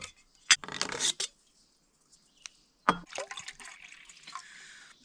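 Water poured for boiling on a hiking stove at a trail camp comes in short splashy bursts, a brief gush, a pause, then a longer trickling pour that fades into a thin, fizzing tail.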